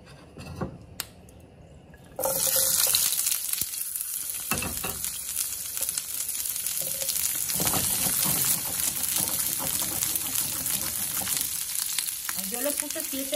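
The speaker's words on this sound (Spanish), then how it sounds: "Y ahora vamos a freír." Pork frying in a pan starts with a few quiet handling noises, then bursts into a loud, continuous close-up sizzle with occasional stirring scrapes that carries steadily to the end.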